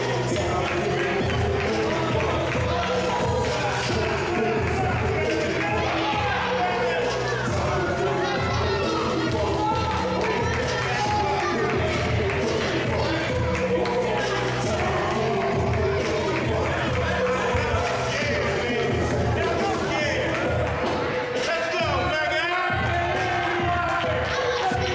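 Lucha libre wrestling crowd at a Mega Pro Wrestling show cheers and chatters continuously, a dense roar of many voices with claps and thuds, steady and loud throughout.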